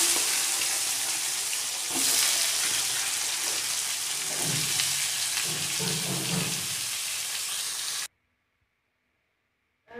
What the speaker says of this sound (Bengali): আর এখন বাঁধাকপির তরকারিটা চাপাবো।